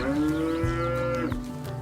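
A dairy cow on a farm with a rotationally grazed herd lets out a long, loud moo, close by, followed by a second lower bellow, with no talking.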